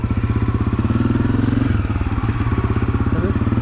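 Honda CRF250F dirt bike riding on an autumn trail, its single-cylinder engine pulsing steadily and loud throughout with a rapid even beat and some mechanical clatter.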